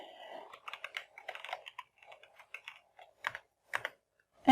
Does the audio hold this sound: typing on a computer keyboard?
yes